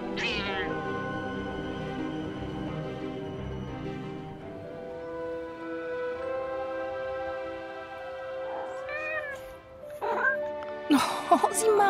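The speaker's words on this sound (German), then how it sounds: "Die Katze mit den Ziegenhörnern" A cat with goat horns in the game Forspoken gives several meows: a long, high, sliding cry at the start, then shorter chirps near the end, over a droning ambient music bed.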